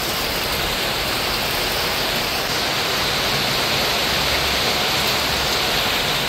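Heavy overnight rain pours down on a thatched nipa-roofed hut with a leaking, holed roof, a loud, dense, steady hiss that stays unbroken and close throughout.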